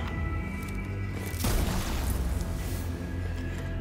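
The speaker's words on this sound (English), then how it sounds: "Fire main cannon." Main cannon firing in the 2018 video game Mechanicus, a single heavy boom about midway through that sits over a steady droning game soundscape, then decays into a rumbling tail.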